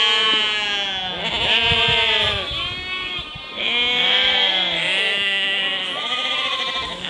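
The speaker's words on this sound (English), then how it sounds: "Release the sheep, release the sheep." Several sheep bleat loudly and repeatedly, their wavering calls overlapping close by with brief pauses between bursts.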